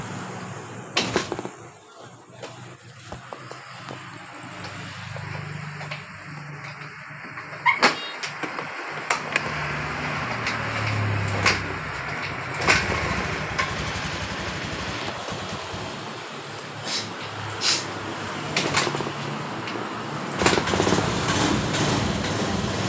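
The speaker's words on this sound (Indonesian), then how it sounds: "Seperti ini, motor ini hidup dengan normal" A Honda Beat scooter engine starts and settles into a steady idle, a continuous mechanical hum with brief clicks and knocks over it, close by and moderately loud.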